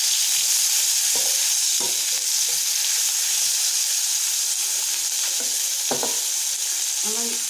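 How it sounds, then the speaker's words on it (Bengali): Raw banana pieces fry in hot oil for a dal-and-potato dish, with a steady loud sizzle throughout and occasional soft scrapes and clinks of a spatula stirring the pan. "আর কলাগুলো সেম প্রসেসে ভেজে নেবো।"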